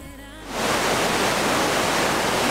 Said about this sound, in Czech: Tady zase sviští voda.